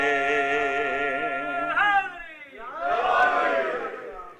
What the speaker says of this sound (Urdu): نعرے لگا رہے